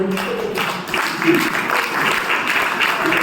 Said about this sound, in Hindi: खड़े होकर के तालियां बजाएंगे